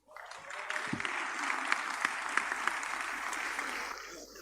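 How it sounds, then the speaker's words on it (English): An audience at a business masterclass breaks into applause, a sustained, dense clapping that swells quickly after a brief quiet start and holds steady before tapering slightly. "a big round of applause for our number one business mentor, Dr. Sm Chirisa."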